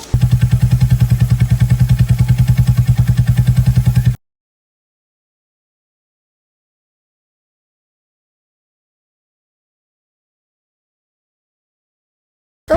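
A motorcycle with a damaged silencer, being moved to be washed, idles with a loud, rapid, evenly pulsing thump for about four seconds, then cuts to silence until a brief return at the very end.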